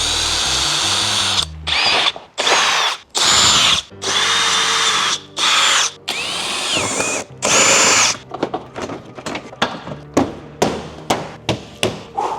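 Cordless power drill driving bolts to fasten the bumper on a 500 HP Subaru WRX, with long loud whirring bursts separated by pauses, then a run of short rapid clicks and taps toward the end; no talking.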